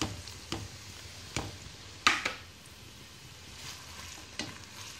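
Onion sizzling softly in a pan for beef kabsa while being stirred, with a few sharp scraping clacks of a utensil against the pan; quiet and close, no talking.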